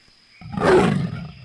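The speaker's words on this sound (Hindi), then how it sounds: "तेंदुए के गुर्राने की आवाज है।" A leopard gives a single deep, rasping growl that swells and fades over about a second, close and loud, alone without talk.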